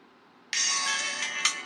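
A mobile phone on a FuriousSIM card starts ringing with an incoming call, a bright electronic ringtone that cuts in abruptly and holds steady, close and alone.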